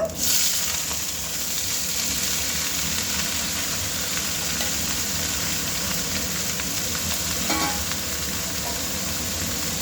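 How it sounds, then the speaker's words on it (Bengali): Mixed vegetables frying in mustard oil with panch phoron in a karahi for a cauliflower-stem chorchori, a constant loud hissing sizzle with occasional faint stirring scrapes, close and without talk. "কড়ার মধ্যে সর্ষে তেল দেওয়ার পর পাঁচ ফোড়ন দিয়েছি এবার এগুলো দিয়ে দেব"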